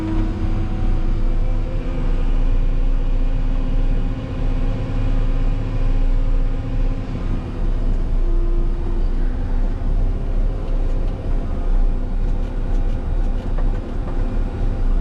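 A truck drives over a gravel windrow on a township road: a constant loud, rumbling engine drone with rough crunching and rattling throughout, close and unbroken for the whole stretch.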